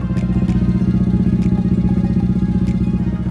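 A Dodge Challenger R/T engine rumbles at idle, a steady, loud, pulsing low throb with an even rhythm throughout, heard close and with no talking over it.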